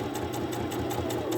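A sewing machine runs a short reinforcing back stitch on an appliqué mug rug, with a steady, close motor hum and rapid, even needle pulses throughout.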